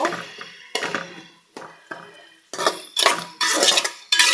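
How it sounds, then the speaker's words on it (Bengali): Spoon scraping and clinking against a pan while onions are stirred on a gas stove, a series of short, close, sharp metallic strokes in uneven rhythm, with quiet gaps between them. "ভালো মতো নেড়ে চেড়ে নিচ্ছি আমি।"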